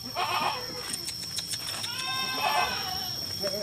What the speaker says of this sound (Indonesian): kambing yang betina beranak 2 teman-teman